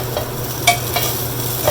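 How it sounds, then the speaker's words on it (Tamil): A spoon stirs a garlic rice mixture in a hot pan, giving a close, soft sizzle with a few sharp scraping clacks against the metal and no voices. "இதை ஒரு தடவை குயிக்காக மிக்ஸ் பண்ணி விட்டுட்டோம்னா அவ்வளோதான்."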